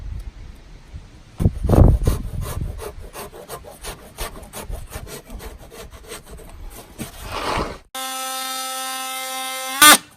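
Rhythmic scraping strokes of hand sanding rub back and forth across a car body panel, steady and close, ending in a brief high-pitched whine.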